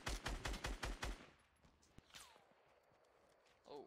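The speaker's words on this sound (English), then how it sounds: "Oh, I just got sniped at from behind." Rapid burst of gunfire in Fortnite, a quick run of sharp shots up front, then a single distant sniper crack amid quieter game noise.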